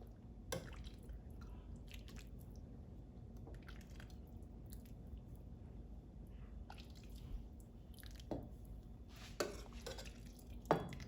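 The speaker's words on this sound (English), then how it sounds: "So I'm gonna serve my soup in a bowl." Homemade chicken noodle soup is ladled into a bowl, faint wet squishes and drips with a few light clinks of utensil on dish, quiet and close with no voices.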